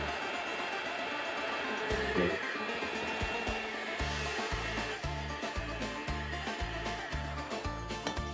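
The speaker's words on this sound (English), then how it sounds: "with our mixer on low." An electric mixer runs on low, beating eggs one at a time into cinnamon sugar koulourakia cookie batter. Its steady motor whir is close and continuous, and rhythmic thumping pulses begin partway through. No one talks.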